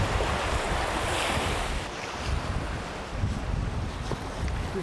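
Sea waves washing onto a black volcanic-ash beach on Jeju, a continuous roaring surf with heavy wind buffeting the microphone, loud and close, no voices.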